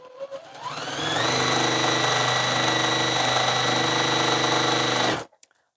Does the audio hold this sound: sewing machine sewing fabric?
yes